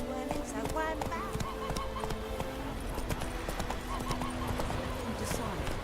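Roach the horse gallops in The Witcher 3 video game, with steady, rhythmic hoofbeats and an occasional whinny under game music while a person talks over it.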